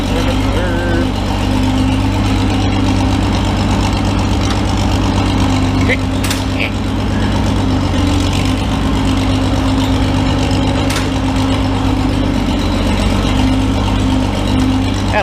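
A six-cylinder tractor engine idles steadily with a deep, even rumble throughout, close and loud, with a voice faintly under it.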